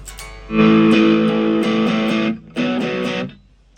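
Two loud, sustained chords of heavily distorted electric guitar through a Cuvave Baby multi-effects pedal, modulation off, the first ringing for nearly two seconds, then a shorter second strum that cuts off.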